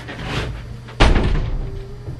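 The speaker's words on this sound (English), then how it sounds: "Please close the door after you." A door is shut once, close by, with a sharp, heavy thud that stands out from a low indoor background.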